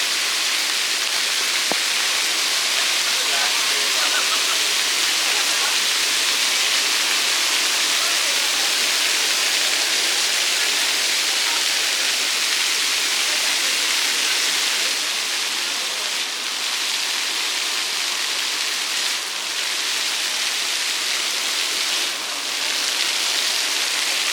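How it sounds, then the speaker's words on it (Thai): Steady, dense hiss of heavy rain pouring down, constant and loud throughout with no pauses. "ฝนตกมาแล้วท่านผู้ชม"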